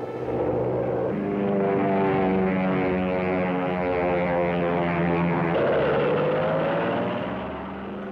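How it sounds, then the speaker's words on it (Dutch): Propeller aircraft engines roar loudly and steadily overhead during stunt flying at an air show at Maastricht Aachen Airport in Beek, with a droning tone that holds strong throughout and shifts pitch as a plane passes. "de lucht davert er van het motorgeronk"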